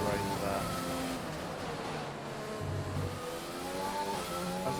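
A Formula 1 car on fresh soft tyres at Monaco, its high engine whine rising and dropping with gear changes and braking, under steady talk from a man.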